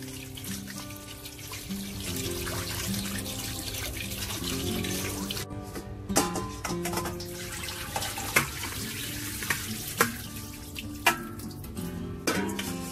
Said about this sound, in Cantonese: 我哋俾啲凍滾水洗一洗佢